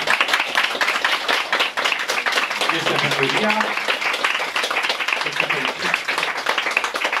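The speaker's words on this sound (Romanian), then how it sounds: "Vă rog să aplaudați." Lively audience clapping at a Romanian bookstore event in Calafat, rapid dense applause that carries on throughout with a voice speaking over it.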